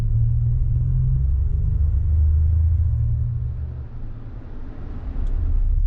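A 2017 Toyota Tacoma pickup on the road, heard from inside as a steady low engine and road rumble that eases briefly and then builds again, with no talking.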